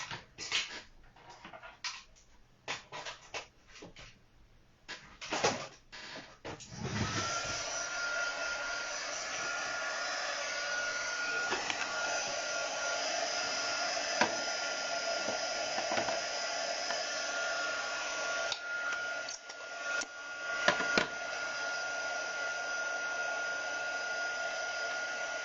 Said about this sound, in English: I am going to dry them with the heat gun.